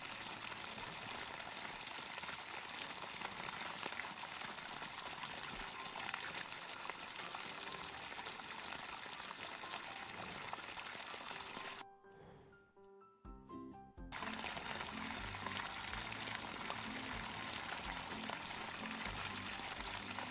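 Continuous water spray hosing down an animal in the Animal Shelter video game, a steady broadband hiss that cuts out briefly mid-clip before resuming at full strength.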